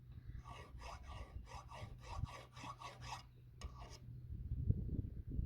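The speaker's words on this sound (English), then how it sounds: "you just take your flat file and rotate it around, rotate your valve around" Flat file rasping a burr off an engine valve from a Mopar 440, a close series of rhythmic dry scraping strokes for about four seconds, followed by faint handling noise.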